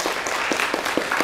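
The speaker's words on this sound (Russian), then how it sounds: "Ваши аплодисменты" An audience at a Day of the Unknown Soldier memorial event applauds a soldier's granddaughter, a brief spell of crowd clapping with a few sharper individual claps standing out over the steady patter.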